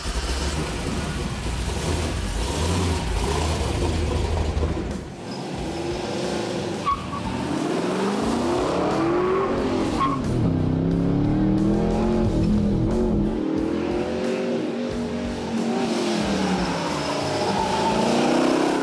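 A Chevy OBS C-1500 pro-touring pickup truck runs an autocross course, its engine revving and rising in pitch as its tires squeal through the turns, heard at a moderate distance over steady background noise, with some talk mixed in.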